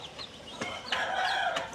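Native country chickens cluck close by, with a hen's low calls and the thin, rising peeps of her chicks repeating over a soft outdoor background.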